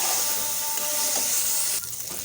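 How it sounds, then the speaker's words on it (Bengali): Chicken meat frying in a pan gives off a steady, loud hissing sizzle that holds evenly throughout, easing slightly near the end, with no talking. "আর এদিকে আমি মুরগির মাংসটা ভেজে নিচ্ছি।"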